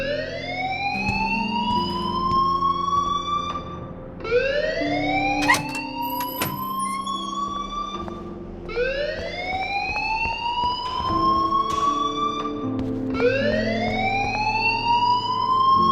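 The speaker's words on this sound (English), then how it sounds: "please turn off that alarm since that's your job" School alarm ringing in Life is Strange Remastered: a loud rising siren-like wail repeating about every four seconds, with background music and faint clatter underneath, no talk.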